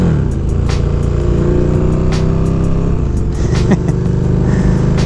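A car or motorcycle engine revs steadily and loudly at close range, a continuous low rumble with slight rises in pitch throughout, no voices over it.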